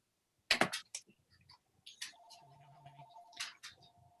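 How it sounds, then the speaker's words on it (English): A phone rings during a public meeting session, its steady electronic tone running for a second or more in the middle of the clip, fairly faint, with people talking over and around it. "No, my phone's ringing."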